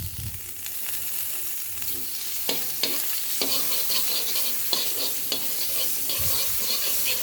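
Martabak dough frying on margarine in an ordinary flat pan: a steady close sizzle and crackle with occasional light clicks of a utensil against the pan, no voices.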